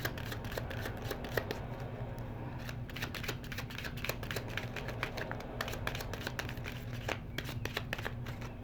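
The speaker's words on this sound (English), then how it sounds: "I'm going to get 3 cards from the Kipper cards" Kipper fortune-telling cards are drawn and shuffled from a deck, giving a run of quick, light papery flicks and taps over a steady low background hum, with no voices.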